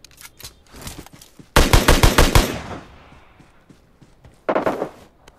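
Bursts of AKM rifle fire in the PUBG Mobile shooter: a loud rapid automatic burst of about eight close shots, then a shorter burst later, with softer distant shots and movement between.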